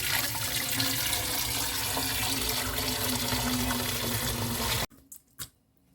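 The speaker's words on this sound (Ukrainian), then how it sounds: "Проціжуємо бульйон." Broth for kholodets (Ukrainian meat jelly) poured through a strainer, a steady loud rush of liquid for several seconds that cuts off abruptly, followed by a few faint clinks.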